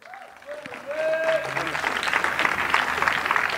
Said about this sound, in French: Donc, je vous demande d'applaudir Marcel, s'il vous plaît.